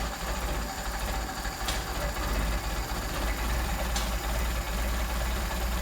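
A Mercedes-Benz 190SL engine fitted with Solex 44PHH carburetors idles at low revs with a steady, even drone, close by and without any voices.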